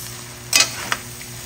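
Meat for Ilocano-style dinuguan sautés in a pan under a low steady sizzle, broken by one sharp stirring scrape and a second, smaller clatter, heard close with no voices.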